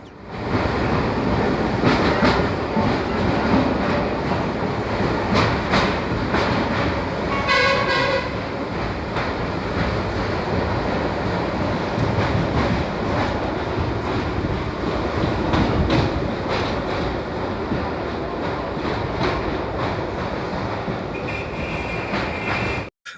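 Steady rumble and rattle of the Kanchenjunga Express heard from inside a passenger compartment, loud and continuous, with faint horn toots and wheel clatter throughout.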